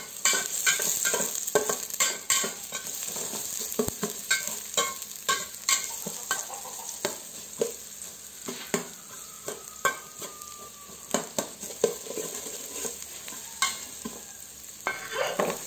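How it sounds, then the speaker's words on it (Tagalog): Sliced onion and garlic sauté in a hot pan, a steady close sizzle broken by repeated scraping and stirring clinks of a utensil against the pan throughout, with no talking. "lutuin lang natin ang sibuyas at bawang ng 1 minuto"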